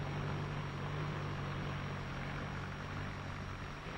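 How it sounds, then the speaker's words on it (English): A new 1953 Ford tractor drives past, its engine giving a steady, loud mechanical drone with a low hum that stays fairly constant throughout, with no voices over it. "You can actually hear this difference as the new Ford tractor passes by."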